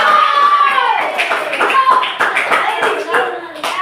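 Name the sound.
classroom applause, clapping hands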